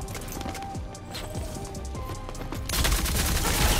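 Rapid bursts of gunfire in the shooter game Rogue Company crackle in quick repeated shots, fairly close, with the firing growing louder and denser toward the end.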